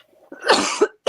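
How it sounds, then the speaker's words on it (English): A single close, loud cough from an adult indoors, a harsh burst followed by a second shorter bark, with no talking. "Now, see that cough right there that you did?"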